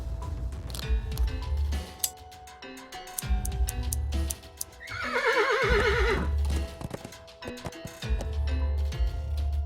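Horse in the video game Willy Morgan and the Curse of Bone Town, with close clip-clopping hooves and shuffling, then a loud wavering whinny in the middle before the hoof steps resume.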